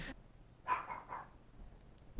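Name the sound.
dog barking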